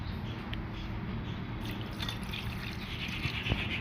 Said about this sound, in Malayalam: ഇളക്കി യോജിപ്പിച്ച് ഇതിലേക്ക് കുറച്ച് വെള്ളം ഒഴിക്കുക